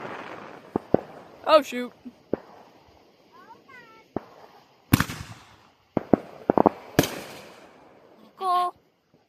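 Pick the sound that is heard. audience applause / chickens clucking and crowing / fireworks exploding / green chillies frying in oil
fireworks exploding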